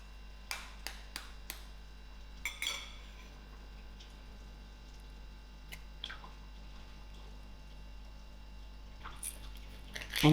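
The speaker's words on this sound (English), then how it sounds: "crack my egg." An egg cracked against the side of a bowl while making tinned fish rolls: a few sharp, close clicks and taps near the start, then quiet kitchen handling with soft clinks, no talking.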